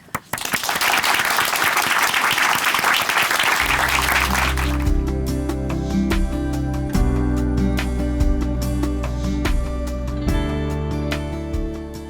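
Applause from a church congregation welcoming a speaker to give testimony, loud and dense for about four seconds, then cut short as sustained tonal music takes over.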